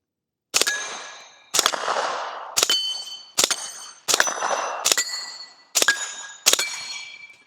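An AR-V9 semi-auto rifle firing 124 grain rounds through a force reset trigger lets off eight sharp, loud shots. Each report rings metallically and decays before the next, with irregular gaps between them.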